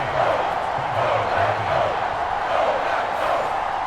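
Stadium crowd at a Cowboys vs Packers game reacting after a Packers opening-drive field goal, a steady, dense roar of many voices at moderate loudness that carries through the whole stretch without a sharp peak.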